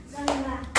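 Children clapping in a school classroom, a short burst of claps close by with a couple of sharp hand slaps standing out over room hum.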